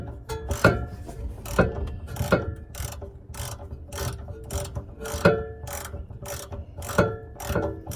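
A hand ratchet works the last nut off the wing of a 1970 Plymouth Superbird, giving bursts of sharp clicking strokes separated by short pauses, close and moderately loud with no talking.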